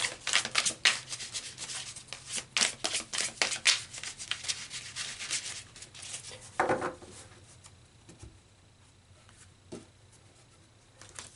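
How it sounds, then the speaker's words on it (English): Crisp rapid riffling and rubbing of cards, a dense burst of shuffling followed by a few lighter slaps and sliding sounds, close and clear. "So let's pull some tarot cards"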